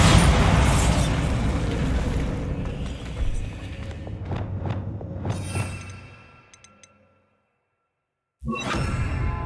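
A Bombarda blasting spell detonates in the Hogwarts Legacy video game: a loud, dense boom with rushing debris that fades over several seconds, then silence, before another burst of game noise starts.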